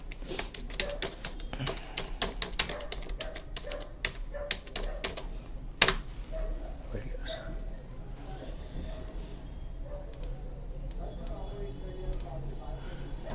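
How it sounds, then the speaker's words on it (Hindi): Typing on a computer keyboard gives a steady run of quick, light key taps with a couple of sharper clicks, close and fairly quiet, as someone talks over it throughout. "यहाँ पे हम टाइप करेंगे"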